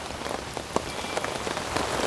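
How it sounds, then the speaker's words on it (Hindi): Raindrops patter steadily on a surface, a dense, even wash of small taps with occasional louder individual drops standing out, close and continuous with no voices. "ये बूंदें अपने आप गिर रही हैं।"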